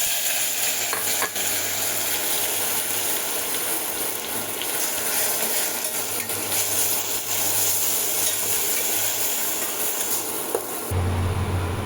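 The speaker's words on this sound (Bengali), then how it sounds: "এই যে তেলটা হালকা গরম হয়ে এসছে, আমি সেই সময় এই যে পেস্টটা করেছিলাম এটা ঢেলে দিচ্ছি।" A ginger-garlic spice paste fries and is stirred in hot olive oil while butter chicken is cooked. It gives a steady, dense sizzle with scraping stir strokes throughout, then suddenly drops to a quieter hiss near the end.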